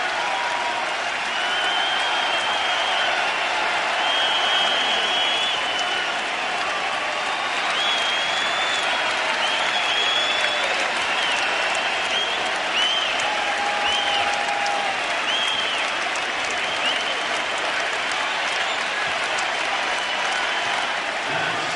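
A large Philadelphia arena crowd applauds a basketball MVP at an NBA game, 76ers versus Wizards in 2003, with dense, sustained clapping and cheering that stays loud and steady throughout, with faint whistles above the roar.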